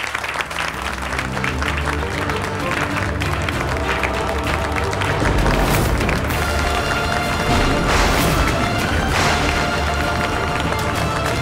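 College students applaud together to welcome arriving guests. The applause is dense and sustained and blends with loud, continuous background music.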